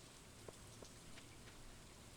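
Steady, soft rain patters in the Stardew Valley video game, a constant low hiss with a few faint droplet taps and no voices over it.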